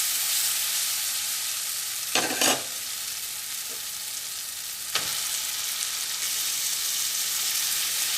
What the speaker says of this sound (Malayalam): ഇനി നമുക്ക് ഇതിലേക്ക് ബീഫ് ചേർക്കാം.